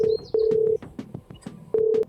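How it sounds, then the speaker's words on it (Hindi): A phone dials to place a call, a rapid series of sharp electronic keypad tones, some held longer, sounding close and clear in sequence. "और अब मैं अपनी मम्मी को फोन लगाता हूँ"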